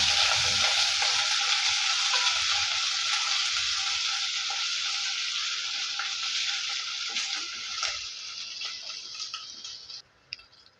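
Crushed ginger, garlic and shallots sizzle steadily in hot oil for a fish curry, with occasional light clicks of stirring over the hiss, close and continuous before quieting near the end.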